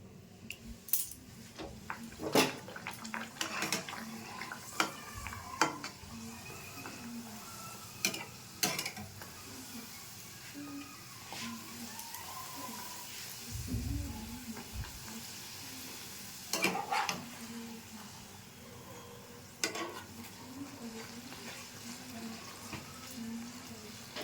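Green-pea-stuffed kachuri deep-fry in hot oil, a constant close sizzle and crackle broken by frequent metal-utensil clinks and scrapes as the pieces are turned.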